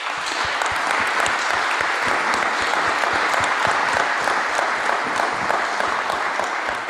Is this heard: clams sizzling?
no